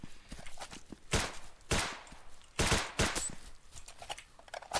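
Weapons fire in the side-scrolling shooter BRAIN / OUT: several sharp, loud shots cut through a fast run of lighter clicks and taps, each report ringing briefly before the next.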